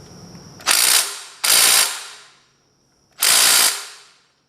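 Torque wrench tightening the cylinder head bolts on a 1973 Kohler K301 engine, giving three loud, close bursts of rapid ratcheting clicks separated by short pauses.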